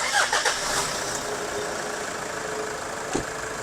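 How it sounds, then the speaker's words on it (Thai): A car engine fitted with an electronic throttle, checked over for a long road trip, runs at a steady idle after starting, a continuous broadband hum with a couple of faint knocks, close and unaccompanied by voices. "สตาร์ทได้แล้วลองตามฟังเสียงครับ เดี๋ยวฟังเสียงหน่อย"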